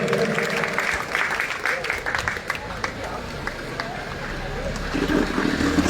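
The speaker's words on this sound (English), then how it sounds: "with a big round of applause, let's welcome Mr. Michael Lobo" An outdoor crowd at a cycling-for-fitness rally in Goa applauds to welcome a speaker. The clapping is moderately loud and sits under crowd murmur and some background noise.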